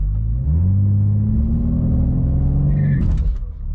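A 2021 BMW G80 M3 Competition engine held at high revs while launch control is engaged, a loud steady deep drone that swells, holds, then drops away abruptly near the end.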